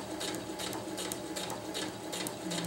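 A sewing machine stitches a straight seam along a winter tarp, a steady continuous mechanical whir with a fast repeating needle pulse, close and fairly loud throughout with no talking.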